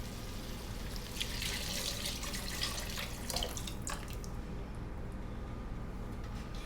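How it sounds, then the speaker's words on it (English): Chicken stock pours into a pot of butternut squash soup with a steady splashing, gurgling flow that fades out partway through, nearby and without talk. "we are ready to be adding our chicken stock now"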